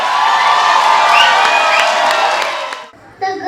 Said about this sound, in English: Please don't stop clapping and cheering while we welcome the girls to bright up our stage